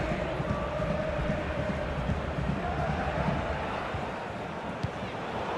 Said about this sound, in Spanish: Todos aplauden a Jordi Alba en el momento justo